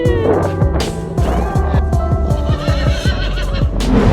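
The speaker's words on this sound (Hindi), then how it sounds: "देखिए ये वाइट घोड़ा कैसे भाग कर आता है" A white horse neighs loudly and close, a long shaky whinny as it runs toward its owner, with rhythmic hoof clip-clops underneath and no talking.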